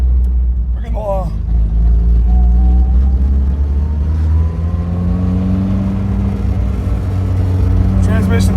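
A 1976 MG Midget drives with a steady low engine rumble and a loud whining transmission, its clutch sticking, the drone rising slightly in pitch as the car runs, with a brief clunk early on.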